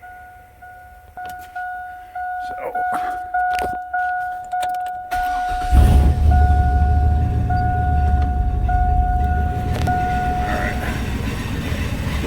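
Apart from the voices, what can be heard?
1999-2000 car running on a lift with grinding noise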